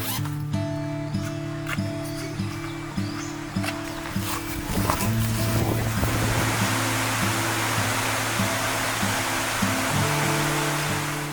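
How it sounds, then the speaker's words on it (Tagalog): A child wading knee-deep across a rural mountain river in Sarangani on the way to school, steady loud rushing water with splashing steps, starting under background music that fades out. "Araw-araw kailangan niya ring tumawid ng ilog papasok ng paaralan."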